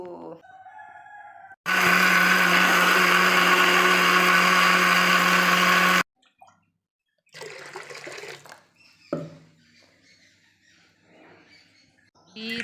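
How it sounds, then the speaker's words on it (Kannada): A mixer grinder grinds tamarind and a piece of turmeric for a village-style fish curry, roaring loudly and steadily for about four seconds before stopping, followed by quieter clattering and handling noises. "ಮಿಕ್ಸಿ ಜಾರಿಗೆ ಹಾಕಿದ್ದೇನೆ ಈಗ ಚೆನ್ನಾಗಿ ರುಬ್ಬ ಇದು"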